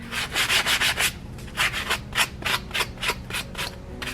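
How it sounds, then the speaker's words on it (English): Rhythmic back-and-forth sanding on wood, quick rasping strokes in bursts with short pauses, close and clear with no talking. "I'm just gonna give it a little sanding"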